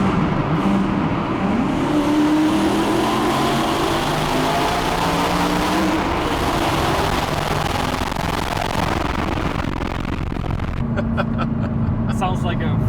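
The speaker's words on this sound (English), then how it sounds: "Sounds like a Formula 1 car." Loud car engine on the Mantorp Park race track, a continuous roaring, revving drone with shifting pitch under a noisy wash, close and sustained.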